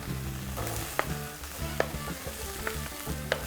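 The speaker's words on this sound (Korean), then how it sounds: "술과 간장을 넣어서 센 불로 바꾸시고 대략 5초만 볶으시다가" Aromatics are stir-fried over high heat with rice wine and soy sauce for jjajang tteokbokki in a school-kitchen cooking demonstration, giving a steady sizzle with sharp spatula clicks against the pan at intervals.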